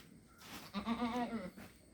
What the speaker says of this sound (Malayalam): ആടാണ് ആട്